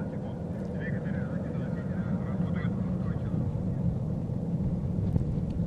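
An ILS Proton rocket climbing after liftoff over the Cosmodrome, a steady, distant low roar that runs unbroken under a speaking voice.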